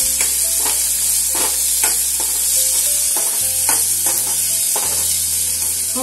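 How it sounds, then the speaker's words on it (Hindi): Onions frying with ginger-garlic paste in a pan for halwai-style aloo sabzi, a steady close sizzle broken by repeated scraping stirs of a spoon through the pan, with no talking. "हमें ऑनियन्स को हिलाते रहना है ताकि वो चिपके ना और जले ना नीचे से।"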